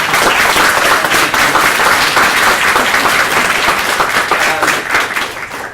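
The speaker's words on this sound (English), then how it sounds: "say thank you very much to the 5 panellists. A round of applause." Audience applauding five panellists at a roundtable on academia and sustainability in the palm oil industry, dense sustained clapping from a sizable crowd, loud and close, fading slightly at the end.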